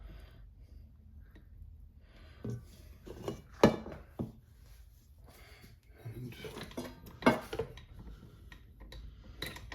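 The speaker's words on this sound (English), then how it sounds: "we're gonna spatula and get that butter blob off the dough hook and into the bowl" A spatula scraping a butter blob off a mixer's dough hook into a bowl while making cultured butter, giving a few sharp clinks and scrapes of utensil on metal against quiet room sound.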